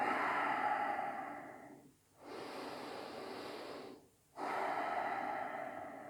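Slow, deep breathing during a yoga stretch: a long drawn inhale-exhale, a short pause, another full breath, a pause, then another breath. Soft and close, with no talking.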